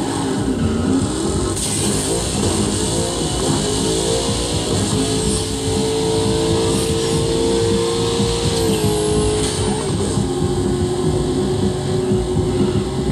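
A rival racer's car engine in the Burnout Paradise driving game draws steadily closer, a rising, droning roar with pitch shifts over continuous road and wind noise, fairly loud throughout.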